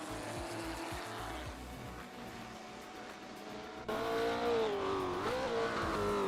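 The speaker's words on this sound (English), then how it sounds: "Newts is driving a 1966 McLaren Elva Ford, currently in second place." Engine of a 1966 McLaren Elva Ford race car in a racing video game, a steady droning whine that jumps louder and higher partway through as revs climb, with faint tire and track noise beneath.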